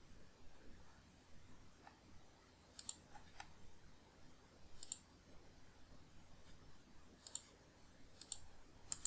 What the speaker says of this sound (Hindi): हम इसमें राइट क्लिक करेंगे डेस्कटॉप पे, देन चलेंगे डिस्प्ले सेटिंग्स